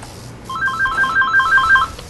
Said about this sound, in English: Probably just ruined your recording, that phone.